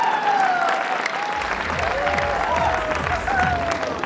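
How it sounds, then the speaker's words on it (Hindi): A large audience applauds loudly at a success speech event, a dense, sustained wash of clapping throughout, with voices and some tonal sound rising over the crowd. "इसलिए जोरदार तालियां होनी चाहिए।"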